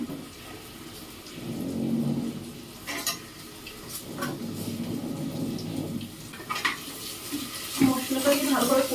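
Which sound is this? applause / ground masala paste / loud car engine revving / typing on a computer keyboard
ground masala paste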